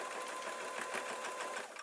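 A sewing machine runs continuously, stitching a fabric circle onto the bottom of a pillow in a fast, even mechanical whirr that stays close and steady for the whole short stretch, with no voices.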